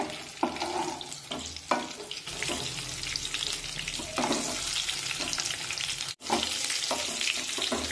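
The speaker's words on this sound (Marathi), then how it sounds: "मध्यम आचेवर ही वांगी आपण परतून घेऊया" Brinjals (eggplants) sauté in oil over a medium flame for bharli vangi, giving a steady crackling sizzle with scraping stirs and spatula knocks throughout, close and fairly loud, with a brief dropout near the end.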